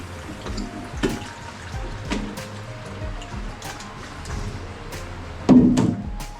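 Water is poured into flour in a bowl for Jamaican dumplings, giving soft intermittent splashes and sloshing, with a louder pour near the end.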